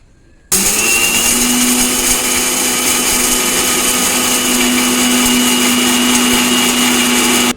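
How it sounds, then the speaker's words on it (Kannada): A kitchen mixer grinder powdering garlic and turmeric for a Kundapura-style clam sukka switches on after a short pause, then runs as a loud, steady whirring motor whine to the end. "ಕಡೆಗೆ ಮಿಕ್ಸರ್ ಹಾಕಿ ಪೌಡರ್ ಮಾಡಬೇಕು"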